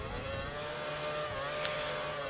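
Race car engine in the F1 2012 video game, a steady high whine as the car skids and understeers through a corner, continuous and close with no talk.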